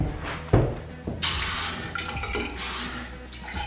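Water bursts from a kitchen tap in an empty Los Angeles apartment in two gushing spurts, with clunks and knocks of the fixture between them, splashing into the sink nearby.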